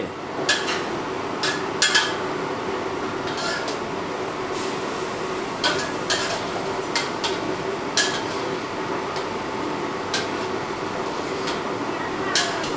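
A metal ladle clinks against a pot while young coconut shoots are scooped out of a simmering pork rib curry, with sharp, irregular taps spaced every second or two over a steady hissing background.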